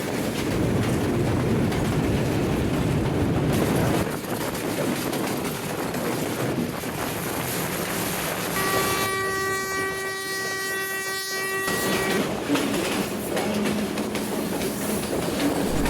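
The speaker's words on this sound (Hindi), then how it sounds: "इस वक्त 130 डाउनथल एक्सप्रेस जो कि रावलपिंडी से चलकर मुल्तान की तरफ जाती है" A Pakistan Railways express running from Rawalpindi toward Multan rumbles past loud and close, its steady roar broken mid-way by a long, sustained multi-tone horn blast before the rolling clatter resumes.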